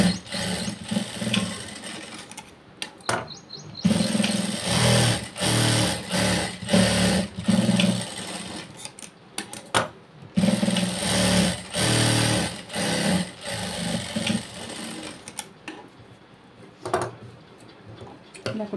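Sewing machine running in long bursts while stitching the side seam of a blouse, with pauses and the clack of the mechanism between runs.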